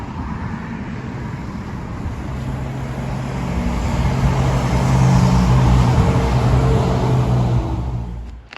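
A train takes the curve at Clay Cross South junction, a low rumbling roar that swells from moderate to loud midway and then fades slightly, heard alone without voices.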